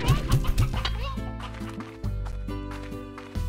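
Hens in the game Slime Rancher cluck in short, bouncy bursts close by, mixed with light background game music.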